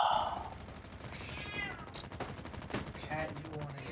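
A pet cat meows a few times over background video game gunfire and sound effects, the calls fairly close and mid-level in volume.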